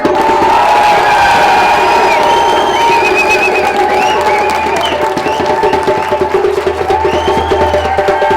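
A large crowd at a school awards event cheering and shouting loudly and continuously, with scattered whoops rising above the roar.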